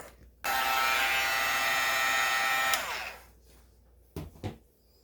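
A hair dryer runs on an art journal page, a loud steady whirring blast that lasts about two seconds, then winds down and stops, followed by a couple of soft handling knocks.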